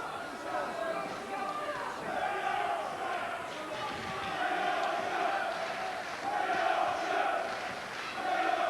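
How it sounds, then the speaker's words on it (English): A boxing crowd cheers for Dale Robinson, a rolling roar that swells in waves beneath a commentator's continuous voice. "Crowd getting behind Robinson"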